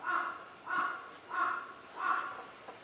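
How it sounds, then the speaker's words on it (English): A crow caws four times in an even, spaced rhythm, each call harsh and moderately near, with no speech around it. "There's a crow."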